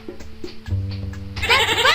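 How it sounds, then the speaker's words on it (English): Goat bleating in a Dora farm animal sound recognition game for children, a couple of short nasal wavering bleats close up, the last one loud and harsh. "That's right! It's a goat!"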